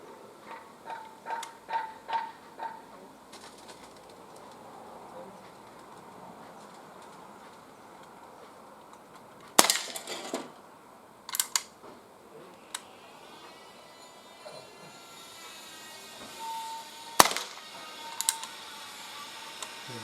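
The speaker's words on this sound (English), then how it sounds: "let's see if it's accurate enough to get these cans" Shots from an Ekol ES66 CO2 BB pistol fired outdoors at cans, a few sharp isolated pops spread apart with quiet outdoor ambience and faint rhythmic knocking between them.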